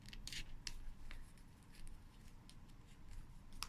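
Close, quiet snips of scissors cutting out silk fabric petals for flower making, a series of short crisp cuts spaced irregularly, with no speech.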